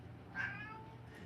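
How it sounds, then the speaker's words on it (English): A pet cat gives one short meow in the background, faint and somewhat distant in a quiet room. "That's my cat. He's screaming in the background."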